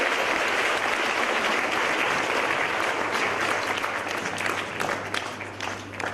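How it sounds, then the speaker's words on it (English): Sustained, loud applause from an audience at a career guidance event in the Northern Cape, a dense wash of clapping that holds steady and fades slightly toward the end. "Let's give them a round of applause."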